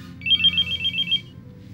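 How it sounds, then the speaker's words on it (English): A telephone rings in one close, trilling electronic burst lasting about a second over a low background rumble, then stops. "I'll have to answer that phone."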